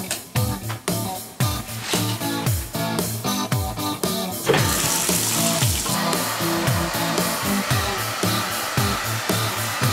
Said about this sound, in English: Blow dries his hair just a little bit